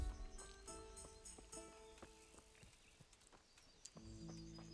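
Horse hooves clip-clop in an uneven walking rhythm in the video game Kingdom Come: Deliverance, with soft tonal game sounds and faint ambience beneath.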